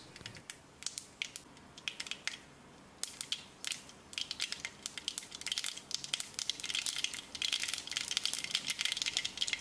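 Half a teaspoon of mustard seeds spluttering in hot sesame oil in a pan for Tamil vatha kuzhambu: dense, irregular crackling pops that grow busier and steadier over several seconds, close and fairly quiet, with no talking.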